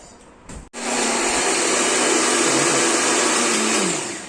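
A kitchen blender whirs up chikoo (sapodilla) juice, starting abruptly after a brief click and then running as a loud, steady, close motor roar with slight pitch shifts as the fruit churns.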